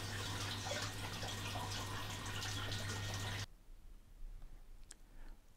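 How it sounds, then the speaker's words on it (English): Water running over a stainless steel washdown weighing cell, a loud steady splashing rush for about three seconds that stops abruptly, leaving faint drips and quiet room tone. "I switch it on, and here you see the water running"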